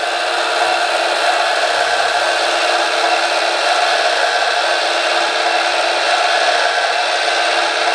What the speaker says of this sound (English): It's a real nice gear motor.